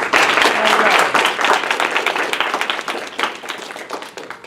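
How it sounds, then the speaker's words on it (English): A graduation audience claps for clinical instructor Loretta Henderson, with dense, steady applause that starts loud and gradually thins out. "we'd like to give Miss Loretta a round of applause"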